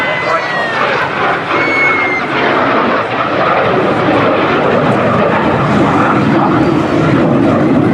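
A display aircraft at the Torbay Airshow roars steadily overhead in a loud, continuous engine drone, with a commentator talking over it throughout.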